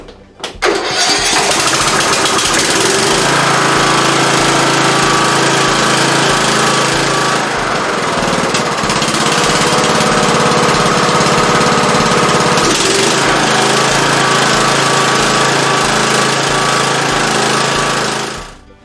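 An MTD Gold riding lawn tractor engine, with a newly replaced carburetor, cranks and catches on choke, then runs loud and steady with a rough mechanical clatter for most of the clip before cutting off.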